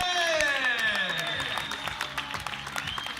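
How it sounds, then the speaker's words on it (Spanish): Enthusiastic crowd applause at the 2017 Pontevedra half marathon, with dense clapping continuing under a sustained ringing tone that slowly falls in pitch. "Quiero pedir un fortísimo aplauso para el hombre que ven detrás."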